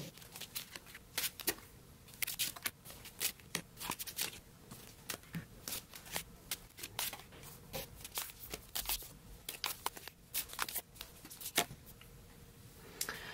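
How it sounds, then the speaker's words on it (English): Tarot cards are speed shuffled in a dense run of quick, crisp riffling snaps and flutters that repeat nonstop at close range, fairly quiet, with no talking. "we're just gonna do the speed shuffling"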